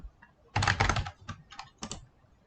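Code is being typed on a computer keyboard in a quiet room: a quick burst of several keystrokes, a pause, then short scattered clusters of taps, close and fairly soft.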